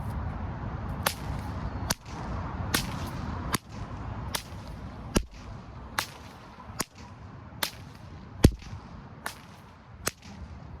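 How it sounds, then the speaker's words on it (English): A single-plane whip is cracked in a cow and calf pattern, forward cracks linked by a half spin, giving about a dozen sharp, loud snaps at a steady two-beat rhythm over a whooshing background. "The second timing variation is the cow and calf, or the whoosh bang, which links forward cracks with a half spin between."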